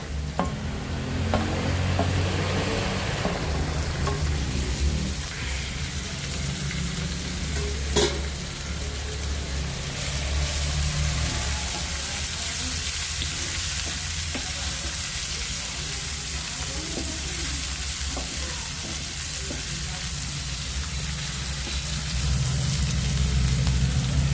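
Tomatoes tossed into hot oil with curry leaves for a prawn masala gravy hiss in a continuous, even sizzle, with stirring scrapes running underneath.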